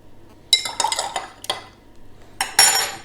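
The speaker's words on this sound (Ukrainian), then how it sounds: "перемішуємо" Metal utensils clinking and scraping against a small glass beaker while stirring water in quick irregular bursts, with louder clinks near the start and end.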